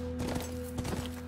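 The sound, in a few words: horse galloping in video game The Last of Us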